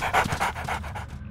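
A dog in an Umbrella Academy video game pants in quick, close breathy bursts that tail off into quiet after about a second.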